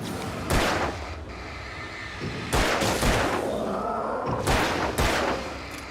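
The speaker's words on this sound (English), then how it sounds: "I like the old flashbangs." Flashbang grenades go off in the video game Alan Wake, several sharp bursts arriving in pairs over a steady, busy game background, loud and close.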